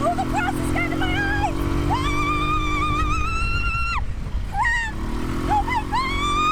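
A riding lawn mower's engine drones loudly as it drives along a track cut into grass, its tone stepping up and down with throttle changes, with a short dip near the middle.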